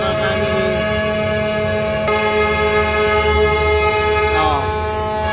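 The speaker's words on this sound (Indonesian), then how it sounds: "Oh, semua klakson bunyi." Several car horns blare at once in a dense, continuous honking chorus, layered over the rumble of gridlocked traffic near Priok port's NPCT1 terminal.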